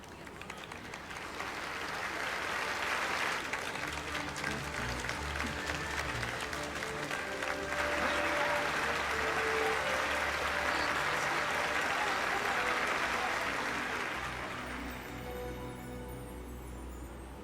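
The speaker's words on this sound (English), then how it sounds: "So he gives a quick speech and then they cheer him." A crowd in Final Fantasy 12 The Zodiac Age cheers and applauds steadily for about fourteen seconds after a speech in Rabanastre, a dense sustained roar that swells and then fades toward the end.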